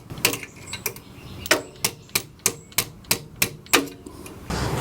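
Sharp metallic taps ring out one after another, about a dozen in an uneven rhythm, as a 2001 Suburban's brake line is knocked into place with a hammer during a truck brake upgrade; close and isolated, with no talking.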